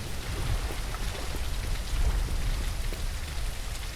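Rainfall from the video game The Lightkeeper, a constant soft patter and hiss that swells slightly midway, carrying a faint low rumble beneath, with no one talking.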